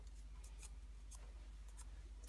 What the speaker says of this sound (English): Yes, very large scissors.